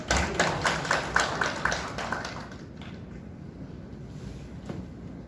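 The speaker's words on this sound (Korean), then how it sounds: "박수 부탁드립니다" Applause at a policy seminar held by a National Assembly member in Korea, as a lawmaker is invited up to give congratulatory remarks; a burst of clapping from a small audience that fades after about two seconds into room tone.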